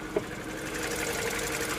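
The 1.6 liter naturally aspirated four-cylinder DOHC engine with variable valve timing in a 2011 Mini Cooper idles close up, with a steady, busy mechanical hum and ticking and a brief click near the start.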